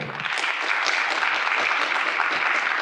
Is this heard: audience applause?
yes